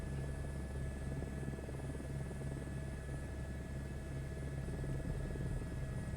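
Steady, close helicopter rotor drone from Microsoft Flight Simulator 2024, flying low over a prehistoric-park scene, with a continuous low throbbing hum and a constant engine whine running unbroken throughout.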